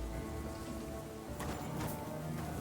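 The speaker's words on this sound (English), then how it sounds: "How is it possible it is always raining?" Steady rain falls in the medieval open-world game Kingdom Come: Deliverance II at a military camp, a dense, even hiss of drops on surfaces continuing throughout with no talk.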